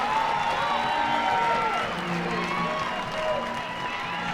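A softball stadium crowd cheers and claps steadily during a college game between Tennessee and Auburn, loud and continuous, with an announcer talking over it.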